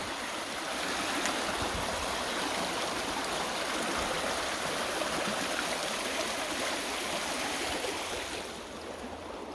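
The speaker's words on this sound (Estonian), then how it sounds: "siin on nüüd siuke natuke nagu kärestik" Small rapids in a stream rush steadily beneath an old stone bridge, a dense, continuous close-up wash of turbulent water with no voices.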